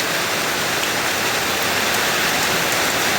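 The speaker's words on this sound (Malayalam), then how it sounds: "കുറച്ചും കൂടെ ശക്തമായിട്ട് വരുന്നുണ്ട് മഴ." Morning summer rain pours steadily and is getting heavier: a dense, even hiss of drops hitting surfaces, loud and close, with no voices.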